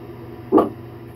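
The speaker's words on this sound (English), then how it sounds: "My dog wants out so bad." A single short bark or whimper from a dog eager to go outside rings out close and fairly loud over a low steady hum.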